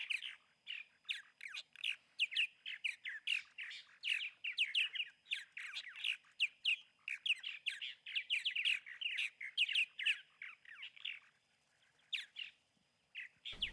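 Purple martins call at a communal roost, a dense, continuous chorus of chattering squawks and chirps from many birds, fairly faint and distant, with no voices.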